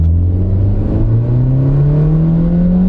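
A small car's engine accelerates while driving, its droning note rising steadily in pitch, loud and close from inside the car and heard alone with no voices.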